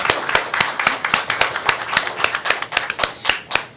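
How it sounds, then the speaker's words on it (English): Close, fairly loud clapping from a small group at a school district board of education meeting, a few pairs of hands producing sharp, slightly uneven claps in quick succession for several seconds. "A little round of applause for them."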